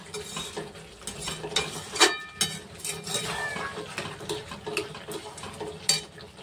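Mutton sautés in oil in a pan, with steady sizzling under repeated scraping and clattering strokes of a stirring utensil, close and fairly busy, with a sharp metallic clink now and then.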